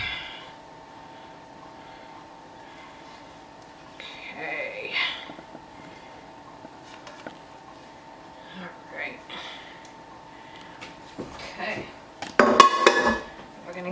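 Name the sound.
stirring cheese into cooked noodles in a pot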